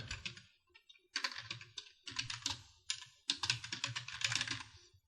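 Computer keyboard typed steadily while entering a sales narration in accounting software, close rapid clicky keystrokes in several bursts with brief gaps, no voices.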